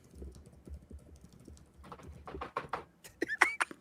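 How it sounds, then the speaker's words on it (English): Rapid keyboard typing, with a run of quick clicks and taps that gets louder and busier toward the end, heard up close with no talking. "He's typing so quick"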